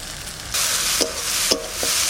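Mutton sautéing with chili, cumin-coriander paste, turmeric and salt in a pan, a loud sizzle that jumps up partway through, with a few sharp scrapes of a spatula against the pan.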